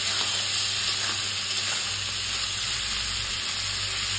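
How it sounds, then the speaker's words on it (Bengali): Chickpeas and onion for ghugni fry in a pan with a steady, loud sizzle and hiss while they are turned over, with no talk. "এপাশ ওপাশ উল্টা পাল্টা করে ভাজছি।"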